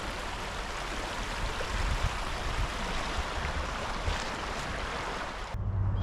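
Steady clear river water flows continuously, broadband and fairly close, with a breezy wind-like hiss and no voices.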